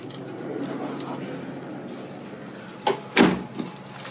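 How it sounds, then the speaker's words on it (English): Double sliding doors in a hotel room give two quick sliding knocks near the end, after a stretch of steady room hum. "sliding door, double sliding doors"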